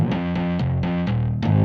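A heavily distorted electric guitar chugs through a low, repeated riff, each note struck firmly in a steady, loud rhythm.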